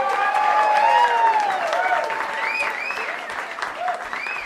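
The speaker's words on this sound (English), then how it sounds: "JP got a big cheer" A live concert crowd at Caffe Lena claps loudly and steadily, with piercing whistles and cheers rising and falling over the dense applause.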